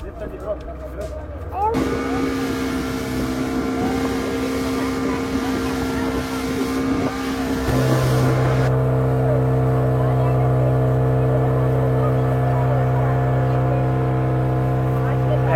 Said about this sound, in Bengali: স্পিড বোটটা ছেড়ে দিল